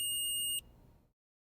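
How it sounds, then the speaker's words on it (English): An Omnipod DASH insulin pump gives a single short, clear electronic advisory alarm beep, loud and alone, cut off sharply after about half a second. "If you wait too long to respond to an advisory alarm, it may escalate to a hazard alarm."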